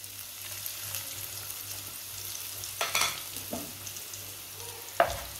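Finely chopped onion frying in very hot oil with whole cumin in a pan, a soft steady sizzle with occasional scrapes and clinks of stirring, close and without speech.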